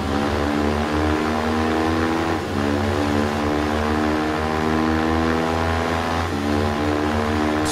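A steady KTM 380cc motorcycle engine in the video game Ride 3 drones with a rich, buzzing hum, briefly dipping twice as if shifting, with no voices over it.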